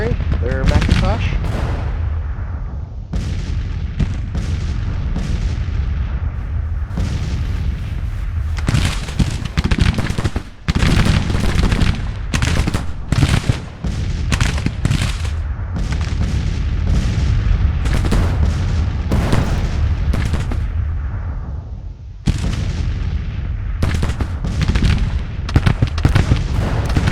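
Continuous battle din from Grand Tactician: The Civil War at the Battle of Manassas, dense overlapping booms of artillery and musketry rolling on without pause, loud and crowded.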